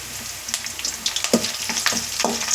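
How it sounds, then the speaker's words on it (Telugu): Onions frying in a little oil with dried curry leaves for a capsicum fry, a steady close sizzle with crackling pops and occasional stirring scrapes, no talking. "ఈ విధంగా ఆనియన్ లైట్ గోల్డెన్ కలర్ వచ్చేంత వరకు వేయించుకోవాలి"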